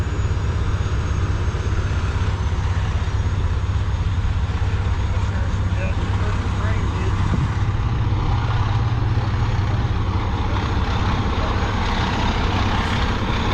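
A heavy truck engine idles steadily and loudly throughout, a deep constant rumble with low-frequency hum, at a scene where a 72,000-pound truck went in a ditch.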